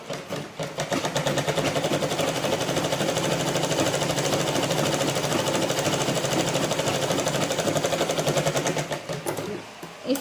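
A sewing machine stitching a blouse, a close, steady rapid mechanical chatter running without a break for about nine seconds before slowing at the end.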